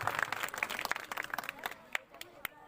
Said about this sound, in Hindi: मैं चाहूँगा जोरदार ताली स्वागत किया जाए